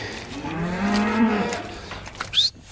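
Farm cows mooing in a shed, a long, low, drawn-out moo close by with a sharper higher call near the end, no talk.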